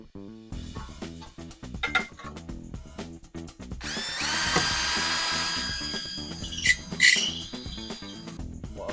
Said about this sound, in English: Let's drill them out, guys.